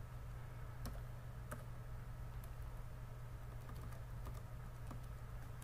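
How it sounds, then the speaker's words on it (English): Someone types an IP address on a computer keyboard, giving scattered soft key clicks over a steady low hum, fairly faint and irregular. "type in the IP address of all the computers running a Cycles"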